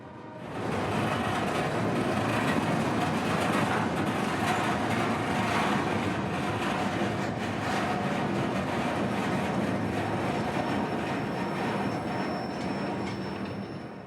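Trains crossing a rail diamond and backing into a yard, a steady, loud rumble of wheels and railcars that fills the whole stretch, with faint wheel squeal and a thin high tone running through it.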